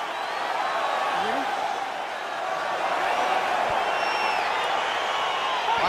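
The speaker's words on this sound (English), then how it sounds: "crowd getting excited as this fight gets underway" Video game crowd at a UFC 4 fight on PS5 roaring steadily and loudly throughout as the bout gets underway, a dense continuous wash of cheering with a few rising whoops.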